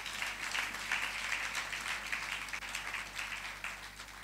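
Church congregation applauding at a Sunday service, a broad wash of clapping from many hands, moderately distant and continuous for a few seconds.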